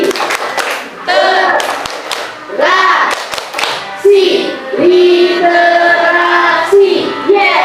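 Sixth-grade pupils at an Angkolo 3 school perform the rhythmic 'tepuk literasi' clapping chant, loud sharp claps in a patterned beat mixed with their chanted group voices close by.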